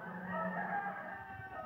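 Hens and roosters cluck and murmur in a steady, dense chorus on a farm, like a crowded coop heard up close, with no talking.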